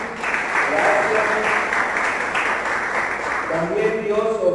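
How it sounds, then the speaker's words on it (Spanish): Applause from a congregation during a Sunday church service, steady and sustained throughout, with a few voices calling out over the clapping. "Un aplauso a la hermana Carito también."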